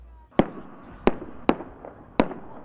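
Fireworks at a Fourth of July evening event at a sports complex, four sharp booming bursts spaced unevenly with short decaying rumbles after each, loud and fairly close.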